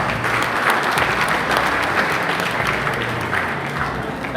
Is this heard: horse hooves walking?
no